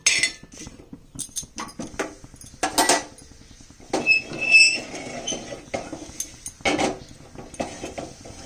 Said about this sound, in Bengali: মেথি আর শুকনো লঙ্কা একটু কাঠখোলায় ভেজে নিচ্ছি